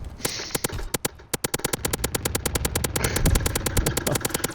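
Rapid gunfire in Call of Duty: WWII, a dense train of sharp, evenly spaced shots with brief pauses, loud and close, carrying on with no talking.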